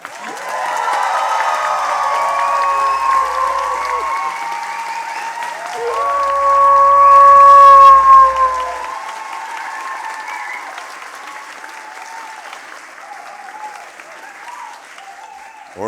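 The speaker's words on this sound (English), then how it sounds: "Applaud now." A science slam audience in a hall applauds at length, a dense wash of clapping with some cheering that swells to a peak midway, then thins and fades toward the end.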